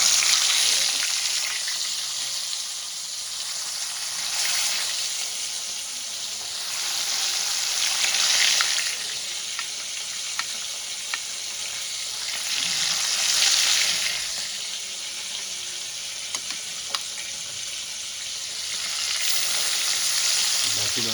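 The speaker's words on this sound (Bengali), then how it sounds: "বাকি মাছগুলো আমি সেমভাবে ভেজে তুলে নেব" Fish frying in oil in a pan, a steady loud sizzle and crackle that swells and eases in waves over about twenty seconds, with no talking.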